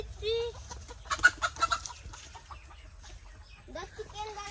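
Backyard farm chickens clucking in short, soft bursts, fairly close, with a brief louder run of clucks in the middle and people talking quietly around them.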